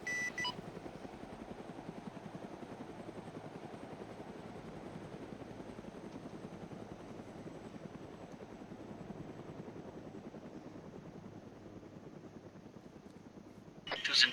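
A spooled-up helicopter engine and rotor whine steadily at moderate distance, continuous and even throughout, with a short electronic beep near the end.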